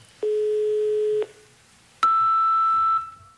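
Two plain electronic telephone tones before an answering machine message, a lower one held for about a second, then a higher one, each starting and stopping abruptly in a quiet room.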